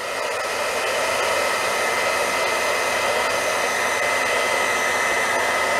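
Heat embossing tool blowing over a silver foil craft piece, a loud, steady, close-up fan roar with a hot-air hiss that holds unbroken throughout, with no voices.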